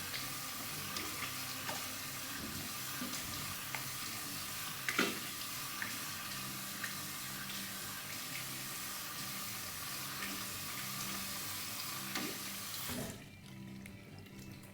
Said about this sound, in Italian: La sciacquata è stata abbondante, l'acqua non è per niente fredda